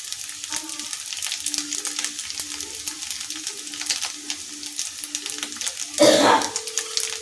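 Curry leaves powder mixture frying in a pan for a quick breakfast dish, with a steady soft sizzle and light scraping stir strokes, then a louder stirring scrape near the end.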